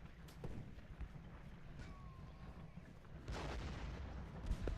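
Cannon and rifle fire in the Civil War battle game Ultimate General Gettysburg, a low rumbling battle bed with scattered distant shots and booms, swelling louder toward the end.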